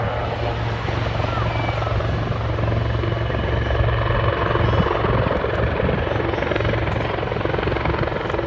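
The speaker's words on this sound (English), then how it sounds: "he moves the aircraft up to 30 knots in this direction" A helicopter at the Bournemouth Air Show 2019 flies rearward at about 30 knots; loud, continuous rotor and engine roar with a steady low hum, close and dominant throughout.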